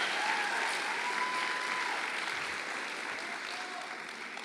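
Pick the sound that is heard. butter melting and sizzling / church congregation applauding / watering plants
church congregation applauding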